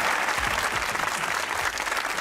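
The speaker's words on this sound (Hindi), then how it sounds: "तालियां।" Studio audience at a Hindi-language comedy show applauding steadily, a dense even wash of clapping heard alone and fairly close for a couple of seconds.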